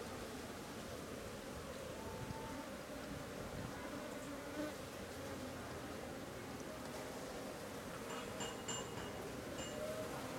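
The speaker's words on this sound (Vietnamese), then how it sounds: "Đấy, về đánh ong mật rồi này các bác này." Honey bees swarm around an opened hive during harvest of longan-blossom honey, a dense continuous buzzing drone at close range, fairly quiet, with a few faint higher tones near the end.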